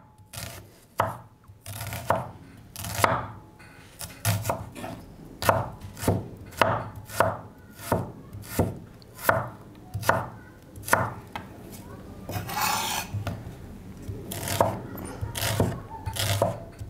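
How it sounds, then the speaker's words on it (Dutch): Knife chopping an onion into thin rings on a cutting board, a steady series of crisp, close knocks at a regular rhythm, with no one talking. "Dunne ringetjes van je ui,"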